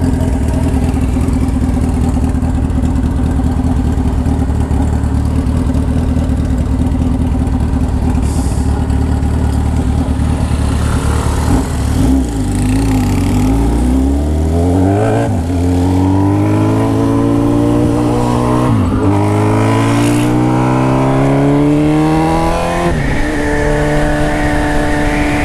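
A loud B-King motorcycle engine revs up repeatedly, pitch sweeping high then dropping in several surges over a steady rumbling idle, with no voices.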